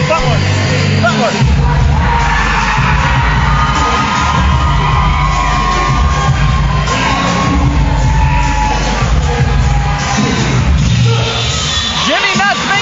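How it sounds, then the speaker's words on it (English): A wrestling crowd cheers, yells and whoops as a wrestler makes his ring entrance at an indoor wrestling event. The roar is loud and continuous, with voices rising above it throughout. "you can hear the crowd here tonight"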